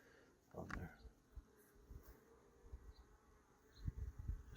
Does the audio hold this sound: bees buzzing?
yes